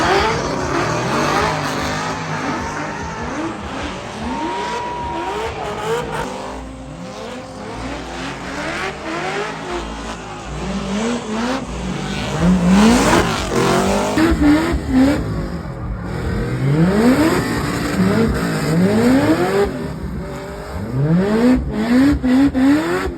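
Trucks at a Canadian truck event rev hard through tire burnouts, engines climbing and falling in repeated loud, overlapping sweeps with a constant roar of crowd and exhaust and no pause.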